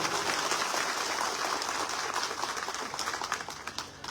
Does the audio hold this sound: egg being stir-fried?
no